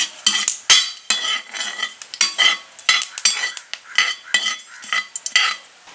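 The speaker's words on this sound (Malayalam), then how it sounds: "ഇതിലേക്ക് കുറച്ച് കറിവേപ്പില ഇട്ടെടുക്കാം. നമുക്കിതൊന്ന് ഇളക്കി കൊടുക്കാം." Curry leaves being stirred in a pan with a metal spoon, giving a string of sharp scraping and rustling strokes in an uneven rhythm, close and fairly loud, with a faint sizzle underneath and no talking.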